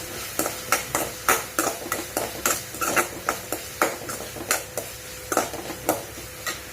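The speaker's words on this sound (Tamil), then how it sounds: "வெங்காயம் நல்லா வதங்கட்டும்" Onions sautéing with salt and turmeric in a pan while spinach rice is prepared, with steady sizzling under brisk, rhythmic spoon scrapes and stirs against the pan, about two to three strokes per second, close and clear with no talk.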